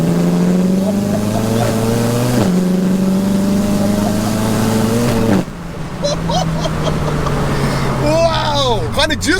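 A 900bhp front-wheel-drive Seat Leon Cupra makes a third-gear pull without rolling anti-lag, its loud, close engine note climbing steadily in pitch, then dropping into a lower drone with a whining, wavering tone near the end.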